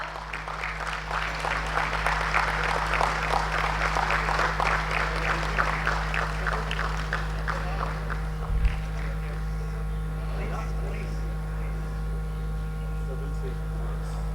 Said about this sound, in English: could you please rise and give a huge round of applause